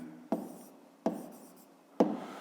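Pen strokes on paper while a math solution is written out by hand, three distinct tapping strokes spaced about a second apart, each followed by soft scratching, close and quiet.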